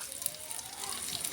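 Eggplant frying with spices in a pan gives a steady, faint sizzle with fine crackles running throughout, close and continuous.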